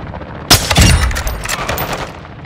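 Gunfire in the video game Call of Duty, a sharp loud shot followed by a rapid spray of rounds and rumbling impacts, close and intense.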